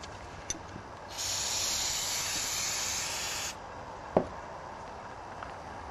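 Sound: spraying carburetor cleaner from a can onto a bearing

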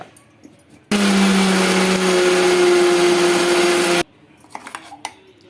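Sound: mixer grinder grinding dry red chilies, garlic, cumin

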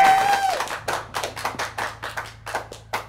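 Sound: applause and clapping

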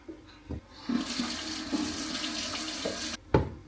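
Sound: rinsing rice or lentils in a strainer under tap

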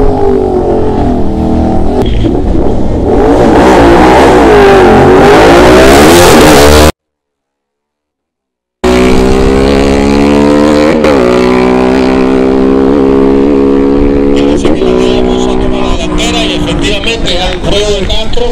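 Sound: Suzuki Hayabusa 1340 racing Ducati Diavel motorcycle

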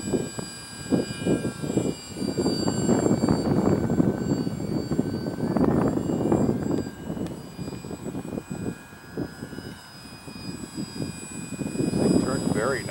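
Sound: HobbyKing Durafly Tundra RC model plane flying

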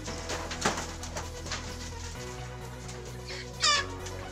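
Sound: chickens clucking

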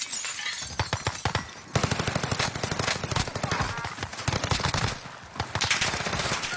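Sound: gunfire in the video game Call of Duty

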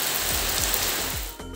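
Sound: heavy rain

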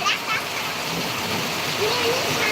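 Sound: heavy rain in Surat

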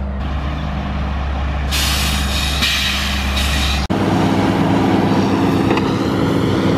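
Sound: chip truck arriving at logging site

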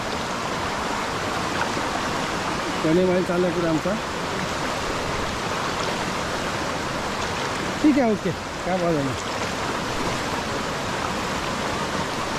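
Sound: rushing water at Sawat Kada waterfall, Murud

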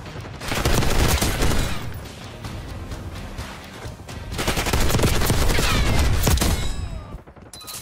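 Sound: gunfire in the video game Call of Duty: Black Ops 6

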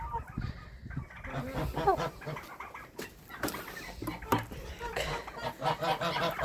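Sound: geese screeching in farmyard at watering

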